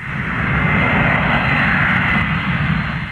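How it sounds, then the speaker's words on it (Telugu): A steady, loud airplane engine roars continuously at an airport around boarding time, a broad even drone with no voices. "ఫ్లైట్ వెళ్ళిపోయేలా ఉంది"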